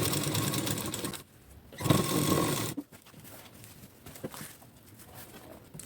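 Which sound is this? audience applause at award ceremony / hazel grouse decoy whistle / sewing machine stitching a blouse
sewing machine stitching a blouse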